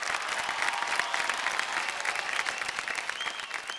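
A dance competition studio audience breaks into strong, sustained applause, a dense wash of many hands clapping steadily at close range with no break throughout.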